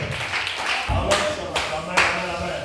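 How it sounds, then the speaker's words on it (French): A church congregation claps in praise of the Lord, several loud, uneven bursts of hand claps close by, mixed with voices. "on va acclamer le Seigneur. Acclamez le Seigneur"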